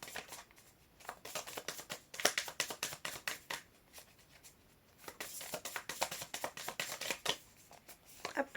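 Tarot cards being shuffled for a reading, repeated quick riffling bursts and soft slaps in an uneven rhythm, close and quiet, with no talking.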